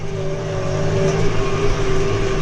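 A Başak 5120 domestic tractor engine running steadily and rising slightly in revs as the gear is stepped up, a loud, close, continuous drone with a clear tonal hum.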